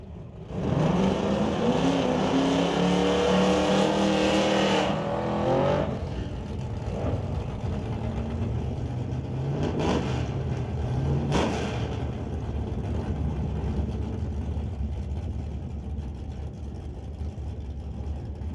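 Stone Cold Racing Dodge Dart and a Rad Torque Systems S10 launching side by side at Mission Raceway Park drag strip, a loud rising engine roar that fades as the cars pull away.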